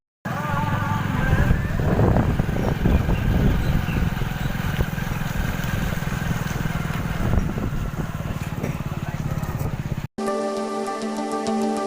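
A motorcycle ride home gives a continuous engine drone mixed with rushing wind noise, steady and fairly loud for most of the stretch before it cuts off abruptly into a brief musical tone.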